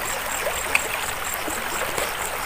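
A small river stream flows steadily at a confluence where two streams meet, a continuous soft rushing and trickling of water heard close by, with no voices.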